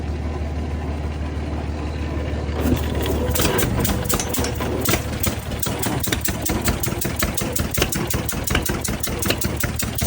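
A 1941 John Deere Model B tractor engine cranks and catches after about two and a half seconds, then settles into a loud, rapid, regular two-cylinder putt-putt close by, with no clear voices.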